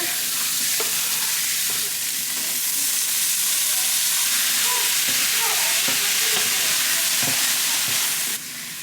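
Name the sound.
chopped onions frying in butter in a hot cast iron pan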